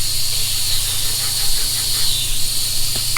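Brake cleaner sprays onto a cracked oil pan as a continuous bright, hissing rush at close range, holding steady for a few seconds over a low background hum, with no talking.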